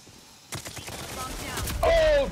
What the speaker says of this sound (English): Liam shot me in the back!